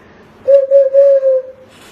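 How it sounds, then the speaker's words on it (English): A toy whistle gives a single sustained mid-pitched tone lasting about a second, slightly broken into short pulses, loud and close in an otherwise quiet space. "And it's a whistle."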